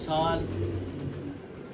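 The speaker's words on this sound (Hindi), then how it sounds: "दोस्तों ये वो कबूतर आपको दिखा रहा हूँ जो हमारी छत पे हिस्ट्री मेकर कबूतर हुए" Pigeons coo on a rooftop loft, a brief soft burst of cooing with faint background noise, lasting under two seconds.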